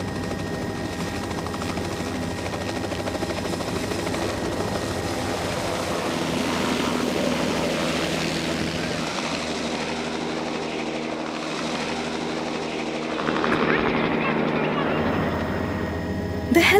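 A helicopter on a mountain sightseeing flight near Kanchenjunga in West Sikkim gives a steady droning rotor and engine hum throughout, with a voice talking over it.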